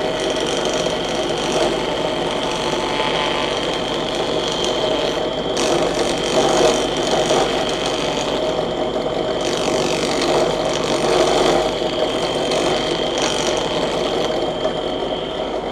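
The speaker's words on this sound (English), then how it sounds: "When you hear the spindle load up like that, if you can hear it, it means you're putting too much in." A Saf-T-Planer cutter spindle planes the end grain of a wooden archtop plate to thickness, giving a loud, continuous whirring machine drone. Its tone swells slightly in places as the spindle loads up, and no one speaks.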